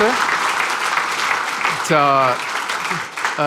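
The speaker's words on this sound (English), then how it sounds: "hard applause for these men" An audience at an event in Amsterdam applauds the technical crew, with continuous clapping throughout and raised voices calling out over it in short bursts.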